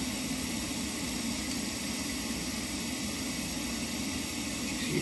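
Steady broadband roar of a small Munchkin boiler burner firing after ignition, continuous and close with no distinct onset.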